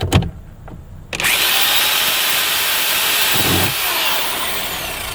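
A power drill drives screws inside a 2003 Chevrolet Tahoe: a brief opening burst, then a loud, steady, continuous whine that holds for several seconds close by.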